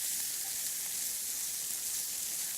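Peas sizzle steadily in a frying pan as they cook for a dish of tortellini, a constant bright hiss with no talking.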